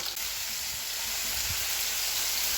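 Spices frying in a pan with onion and garlic for a soybean and potato curry, giving a steady, close broadband sizzle that runs the whole time with faint stirring scrapes underneath and no talking.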